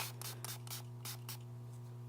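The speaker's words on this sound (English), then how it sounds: "I'm just going to take some of this Milani Make It Last setting spray and just spray it on my sponge" Several quick hissing bursts of Milani Make It Last setting spray misted onto a beauty sponge, close and crisp, in an uneven rhythm over a steady low hum.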